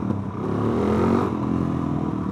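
A Suzuki DRZ motorcycle with a slip-on exhaust, ridden on the move: a loud, steady engine drone that swells briefly mid-way, with a gritty rattling texture and no talk.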